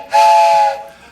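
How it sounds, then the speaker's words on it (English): A steam-style train whistle blows one sustained, loud blast that sounds alone for about half a second, then fades quickly into a faint hiss. "and train whistles"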